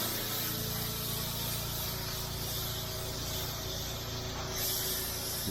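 A gas-powered roof water pump sprays a steady, faint hiss of water rinsing car windows, continuous and unbroken throughout.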